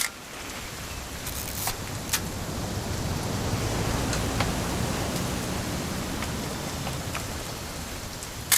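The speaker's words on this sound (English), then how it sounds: "It's gonna rain the whole weekend" Steady rain falls in the video game What Remains of Edith Finch, a continuous soft hiss with occasional sharper drips or taps, even and moderately loud throughout.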